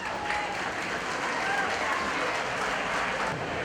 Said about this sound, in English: Let's give those young folks a round of applause.